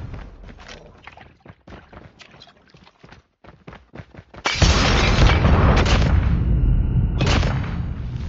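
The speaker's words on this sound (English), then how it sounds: "Flashbang!" A flashbang grenade goes off in Call of Duty Mobile with a sudden loud, dense blast midway, followed by a sustained roaring wash of noise, after a stretch of quieter scattered thumps and footsteps.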